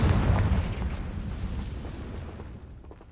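The Confringo fire spell in the video game Hogwarts Legacy sets off a loud, booming explosion with a deep rumble, followed by a crackling roar that slowly fades away over a few seconds.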